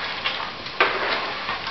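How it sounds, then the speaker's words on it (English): Onions and celery frying in a pan while bread for a stuffing is added, giving a steady soft sizzle with faint stirring scrapes and one brief louder clatter near the middle. "The onions and the celery are frying"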